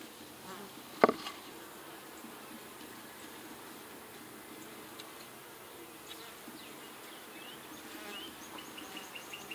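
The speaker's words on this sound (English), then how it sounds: "A lot of bees on the lid." Honeybees buzz steadily in the top box of a double-stacked five-frame nuc with many bees on the lid. The hum is soft and constant, with one sharp knock near the start.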